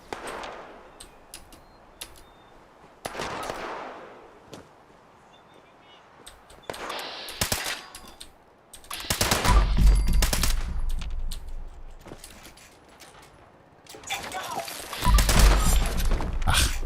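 Automated turrets in Fallout 76 firing at enemies, bursts of rapid gunfire and explosive thumps in clusters separated by quieter gaps, the heaviest volleys loud and booming near the end.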